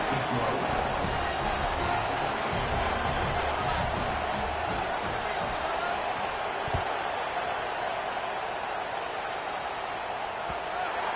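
A college football stadium crowd at a Wisconsin vs Arkansas game makes a steady, distant wash of murmur and noise, while a commentator talks over it throughout.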